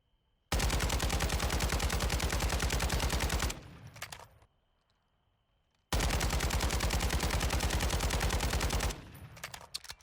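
Sustained automatic fire from a scoped rifle in Warzone 2.0, two long bursts of rapid, evenly spaced shots, each about three seconds, loud and close with a short pause between them.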